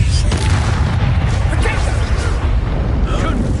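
A Confringo blasting spell erupts in the Hogwarts Legacy video game, a dense, loud booming blast that fills the whole stretch with rumbling low-end energy and crackle, with some game voice mixed underneath.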